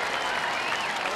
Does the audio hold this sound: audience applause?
yes